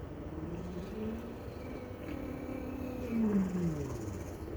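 A voice imitates a tape machine rewinding and fast-forwarding, with faint rising and falling whirring tones, swelling louder near the end, alone and without words.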